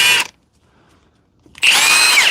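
Repaired Dewalt power tool with a freed-up fan whirring loudly at close range, a brief burst that cuts off, a pause of near silence, then the motor spinning up again.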